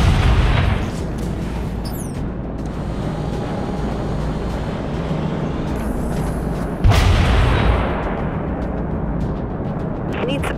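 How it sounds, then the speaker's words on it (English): Micronuke missiles launch in Dreadnought amid heavy combat rumble, with a hissing rush of launches near the start and another sharp, loud burst around seven seconds over a constant low roar; a voice talks through it. "Micronukes have a lock. Micronukes launched."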